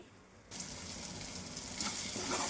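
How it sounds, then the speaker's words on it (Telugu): A ginger, garlic and cumin paste frying in hot oil, a quiet start giving way at once to a steady, close sizzle that grows louder toward the end, with no voices. "అల్లం వెల్లుల్లి జీలకర్ర పేస్ట్ చేసుకున్నాం కదండి అదైతే వేసేస్తున్నాను ఇది కూడా బాగా ఏగాలండి"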